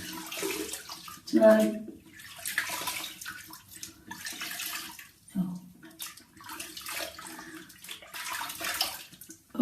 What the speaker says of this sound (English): So I'm just going to rinse this off because I forgot the face cloth.